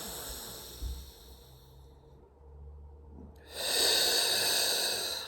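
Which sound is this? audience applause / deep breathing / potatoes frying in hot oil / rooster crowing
deep breathing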